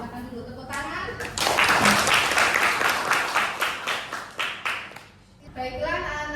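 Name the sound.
class applause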